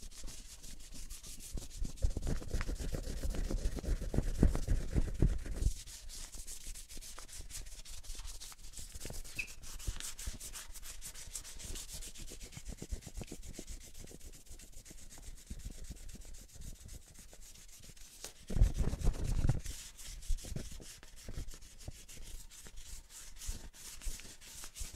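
A car bumper is sanded by hand with 400-grit sandpaper, rapid rhythmic rubbing strokes close up, louder bursts at the start and again near the end, with quieter scratchy passes between.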